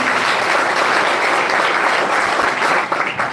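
Sustained applause from an audience at a motivational speech, steady and dense throughout with no talk over it.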